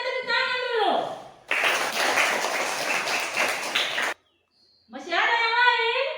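A classroom of children claps for a student in a short, dense burst of about three seconds, framed by a teacher and kids talking before and after.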